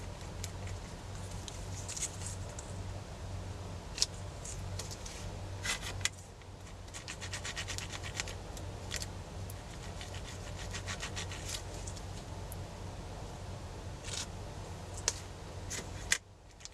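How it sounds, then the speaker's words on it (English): Yellow paint is rubbed by hand onto a gel-printed bookmark, giving soft, close scratchy rubbing strokes in an irregular rhythm, with a few sharp taps between them and no speech. "I have to rub some yellow onto this."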